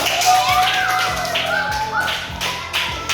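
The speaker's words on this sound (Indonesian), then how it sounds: "Kita tepuk tangan dulu untuk teman kita" Several children clap in a classroom, a short burst of sharp taps with a voice talking over them close by.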